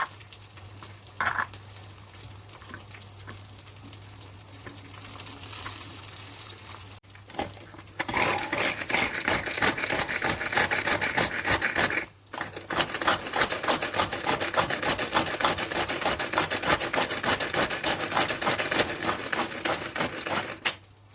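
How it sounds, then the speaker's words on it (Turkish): A food processor blends onion, garlic and tomato into a sauce: a loud, dense whirring and chopping roar that runs in bursts, with brief pauses between pulses, close and continuous. "Şimdi malzemelerimi el robotu yardımıyla sos haline getireceğim."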